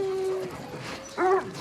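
A pack of dogs gathers around a newcomer, giving a short whine and a brief yelp close by over low background rustle.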